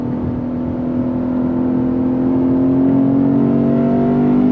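Lexus IS 500 F Special Edition sedan accelerating hard in first gear, its engine note rising steadily and loudly over several seconds, close and continuous with no talk over it.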